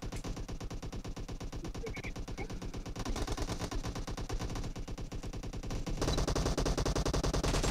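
Rapid automatic AKM rifle fire in a PUBG Mobile deathmatch, with dense, rhythmic bursts of shots rattling almost continuously and growing louder and heavier toward the end.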